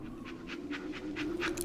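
A dog in an Oz-themed hidden-object adventure game pants in quick, regular breaths, about six to seven close, steady huffs over a low hum, with no talking.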